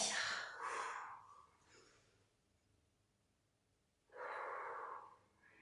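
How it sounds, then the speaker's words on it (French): During an abdominal strengthening workout, someone breathes audibly in and out: a long, breathy exhale, a quiet pause, then another strong breath. The sound is close and faintly hissy. "Inspire, expire."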